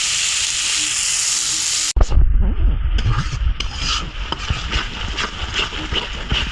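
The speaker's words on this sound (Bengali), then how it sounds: "মশলাটা ভালো করে কষিয়ে নেব একটু" A spice masala for chicken curry with pointed gourd is fried and stirred in a pan. Steady hiss gives way after a cut to loud, close sizzling and crackling, broken by the scrape of stirring.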